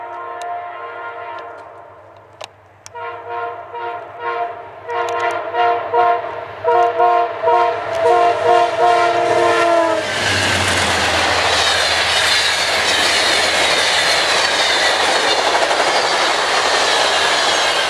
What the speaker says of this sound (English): Amtrak Crescent 19, February 28th, 12:16 p.m.